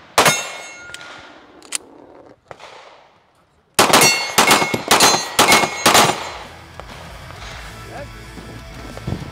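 Rifle fitted with a JSD Supply binary trigger fired at a steel target at an outdoor shooting event, loud sharp shots in quick pairs and bursts with metallic ringing, after a quieter stretch with some talk.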